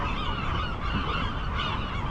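A dense flock of birds honks continuously on Alcatraz Island, a loud overlapping chorus of goose-like calls with no pauses.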